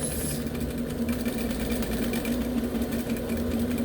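A sewing machine stitches fabric with a small stitch, a steady close motor whir and needle hum running evenly throughout.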